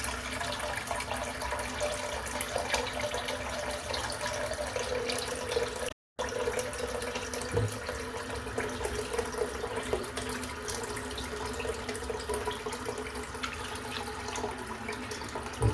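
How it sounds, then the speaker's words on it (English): Hot tap water runs steadily into a sink during shave lather preparation, a continuous broadband splashing stream that is briefly interrupted partway through and otherwise constant and moderately loud. "Get a bit of hot water, here it comes."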